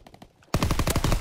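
Gunfire in the Call of Duty WW2 video game during a free-for-all match: a few soft shots, then a loud, dense automatic burst that fills the second half.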